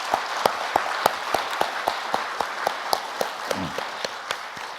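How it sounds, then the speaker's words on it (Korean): Church congregation applauding to welcome new members at a Korean Sunday worship service, a steady wash of clapping with sharper individual claps standing out at a regular beat. "우리 박수로 환영합니다"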